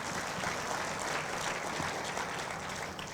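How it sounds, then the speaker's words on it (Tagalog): A church congregation claps loudly together in praise, a dense, sustained wash of applause filling the room with no voices above it. "pumalakpak ng malakas sa Panginoon"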